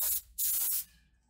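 An airbrush sprays ChromaAir UV-reactive water-based paint over a matte white primer in two short, close hissing bursts with a brief gap between them.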